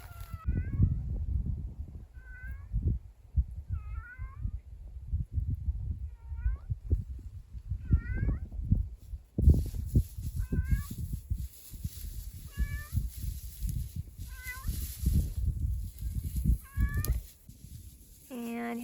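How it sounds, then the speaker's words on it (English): Cat meowing outdoors, a series of about a dozen short rising-falling meows spaced every second or two, moderately close, over rustling and handling noise, with a person talking quietly between calls. "You're sitting there meowing."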